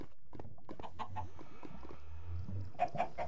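Chickens cluck in the Volcano Block video game, with several short, close clucks scattered across the clip and a soft background hum.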